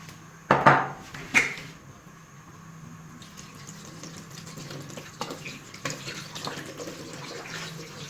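Water is poured into a pan holding pieces of kudampuli (Malabar tamarind) while cooking crab roast, with a couple of sharp clatters at the start, then a steady, soft running-water hiss. No one speaks.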